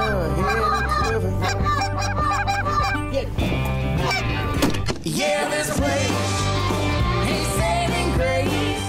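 Geese honk loudly and repeatedly in a continuous, overlapping chorus during a pit blind hunt, with a brief dip midway before the honking resumes just as strong.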